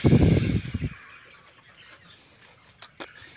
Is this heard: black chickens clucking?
yes